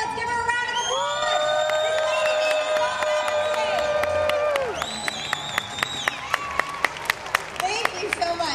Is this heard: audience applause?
yes